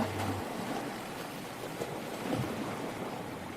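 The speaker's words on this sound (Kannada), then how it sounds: "ಇದು ಅರಬ್ಬಿ ಸಮುದ್ರ" Waves of the Arabian Sea wash steadily in an even, broad roar, with no voices.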